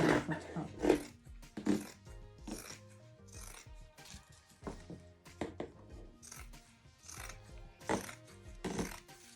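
Scissors snip through fabric while cutting a bodycon skirt, giving a string of short, irregular cuts and rustles up close, with some quiet handling noise between them.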